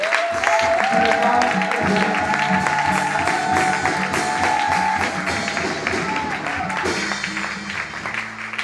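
Women in a church congregation acclaiming and applauding, a dense wash of clapping and cheering voices that stays loud throughout and fades slightly toward the end.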